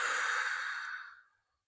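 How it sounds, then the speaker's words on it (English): A single deep breath released as a long, close, breathy exhale during a gentle yoga session, steady for about a second and then fading out into silence. "let's take a big, deep breath and release."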